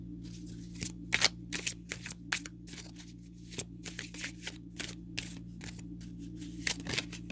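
Rapid riffling bursts of tarot cards being shuffled, repeated in quick irregular runs, close and crisp with no talking.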